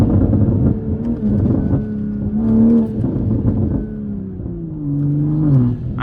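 A Mark V Toyota Supra drives with a loud, steady engine drone heard from inside, its pitch rising and falling gently as the car cruises and eases off, with continuous road rumble beneath.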